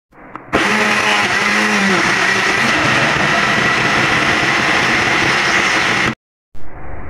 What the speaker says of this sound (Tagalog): I-blender natin yan guys.